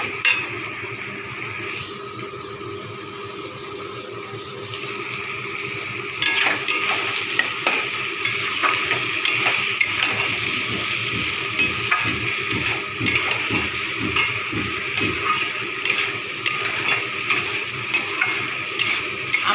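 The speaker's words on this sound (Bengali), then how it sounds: "ভালো করে আমি ভেজে নেবো" Chicken meat fries with ginger in a pan, a steady loud sizzle with rhythmic scraping and stirring of a spatula against the pan in the second half, no voices.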